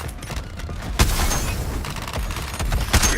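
Gunfire and explosions in the Suicide Squad Kill the Justice League video game, dense sustained bursts with heavy booms layered in a chaotic battle mix.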